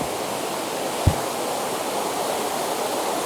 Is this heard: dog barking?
no